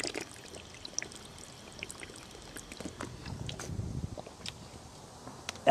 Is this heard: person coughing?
no